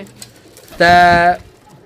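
A domestic desi pigeon gives a short, loud throaty coo close by, with faint voices and background noise around it.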